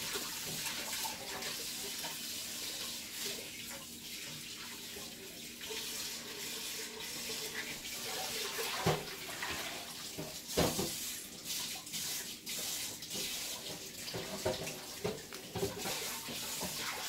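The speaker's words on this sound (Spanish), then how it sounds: "Y ahora me voy a lavar las manos." A kitchen tap runs steadily while hands are washed, a soft continuous splashing with a few louder splashes and knocks, no talking.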